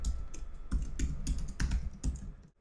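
A computer keyboard is typed on up close, a quick irregular run of crisp keystroke clicks that stops near the end, with no talking.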